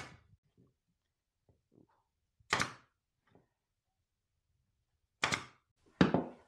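Nail gun firing nails at an angle into a wooden stool, three sharp, close snapping shots spaced apart amid near silence, with faint handling noises between.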